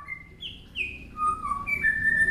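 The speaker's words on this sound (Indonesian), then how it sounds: "membiasakan burung ini mendengarkan suara-suara murai batu tarung" Clear whistled fighting calls of a white-rumped shama, with rising and falling notes, several phrases in quick succession over a low background rumble.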